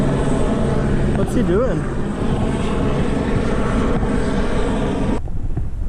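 A low-flying helicopter roars loud and steady overhead at a grayling fishing spot, its rotor and engine drone filling the air before cutting off sharply near the end, with someone speaking briefly over it.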